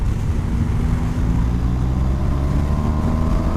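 A 2019 BMW R 1250 RS motorcycle engine pulls out of bends with a loud, steady low-pitched drone, its revs rising slightly toward the end over rushing wind noise.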